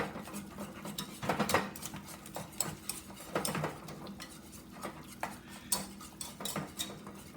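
Spinach stirred into a soufflé base in a saucepan, quiet irregular clinks and scrapes of a spoon against the pan at close range.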